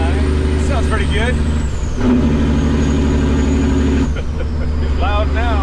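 A loud, rough diesel truck engine with no exhaust fitted rumbles continuously, rising briefly in a rev, while a voice speaks over it now and then.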